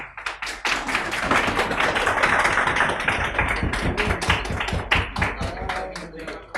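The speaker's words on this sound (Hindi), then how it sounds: "ये तालियां जारी रखें।" A classroom lecture audience claps steadily, a dense, close patter of many hands that swells and then thins into scattered individual claps toward the end.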